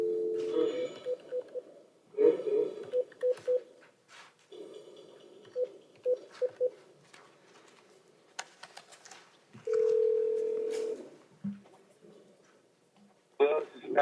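Telephone dialing tones and a steady dial tone play over a speakerphone in a courtroom, with short beeps in bursts and long tones, mixed with background voices.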